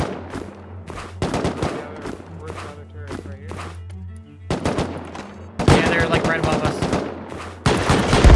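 Rapid automatic gunfire in the survival game Rust, with loud bursts and scattered single shots that grow louder near the end, heard over players talking and a steady low hum.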